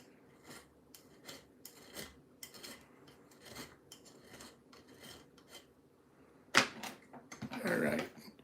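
A locksport-inspired ring is sanded down by hand in a rhythmic series of short, dry scraping strokes at close range, with a louder, rougher burst of abrasion near the end.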